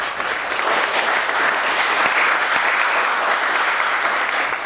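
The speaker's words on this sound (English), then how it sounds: "Give him a round of applause" A studio audience at a cooking show bursts into loud, sustained applause, a dense and steady roar of clapping that stays close and full throughout, with no voices standing out.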